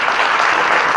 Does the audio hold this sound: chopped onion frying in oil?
no